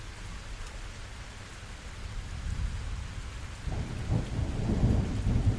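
Steady rain falling on surfaces with a deep thunder rumble building and rolling in the second half, continuous and fairly close, with no voices.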